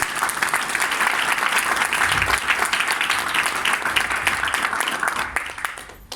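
A loud, dense wave of audience applause at a business event fills the space, many hands clapping continuously and fading slightly toward the end.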